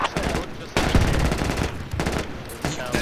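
Sustained automatic AK rifle fire in the military shooter Project Reality on the Sbeneh Outskirts map, with dense rapid bursts from nearby and farther off, broken by short pauses, loud throughout.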